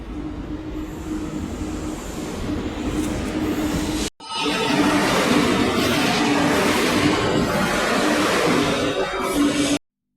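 A train rolls into a station near Khopoli in the Khandala ghat area, a loud, continuous rumble and clatter of wheels on rails that cuts briefly, then returns louder before stopping abruptly.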